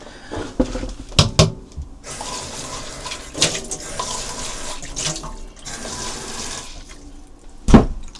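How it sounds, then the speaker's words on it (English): Water splashing and pouring from a tap or watering vessel while plant cuttings are being watered, with a few sharp louder splashes and knocks over a steady running-water background. "Just chucked water everywhere."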